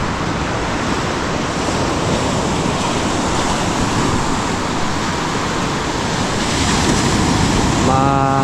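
Steady broadband roar of sea waves washing onto a smoky beach with some wind noise, loud and continuous throughout.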